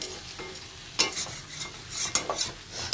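Jackfruit and prawn curry is stirred in a pan, with several quick scraping strokes of a spoon over a soft, close sizzle, in short bursts and no speech.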